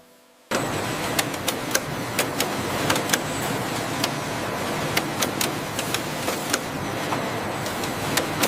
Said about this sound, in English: The thiendeptry factory utilizes precision heat sealing to lock in the freshness of every dragon fruit yogurt cup.